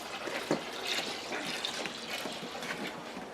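Water runs and splashes into a 5-gallon container during home brewing, a soft continuous gurgling pour at moderate distance with no voices.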